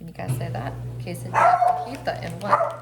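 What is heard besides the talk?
dog barking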